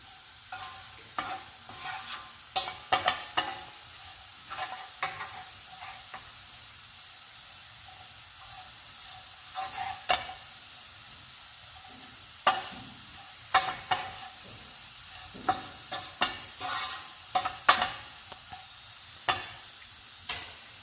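Beetroot fries in a pan with a steady low sizzle while a spoon stirs it, making sharp scraping clinks at irregular intervals, close and clear.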